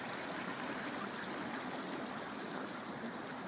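A stream flows beside a wild campsite in Galloway Forest Park, a steady broadband rush of water, close and unbroken.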